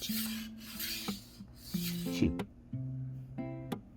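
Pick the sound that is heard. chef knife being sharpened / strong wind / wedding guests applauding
chef knife being sharpened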